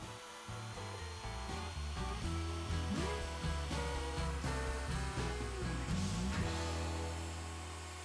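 A wood router cuts through a board, a loud continuous high motor whine with the pitch dipping and rising as the bit bites into the wood, close and alone.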